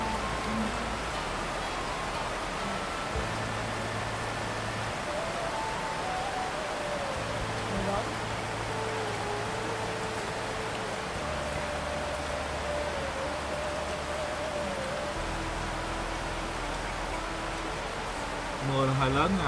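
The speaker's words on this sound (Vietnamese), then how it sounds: "Mưa là hơi lớn, nó bị ồn cả nhà." Heavy rain pours down on a house in a steady, dense hiss that lasts throughout, with a low hum and faint voices beneath it.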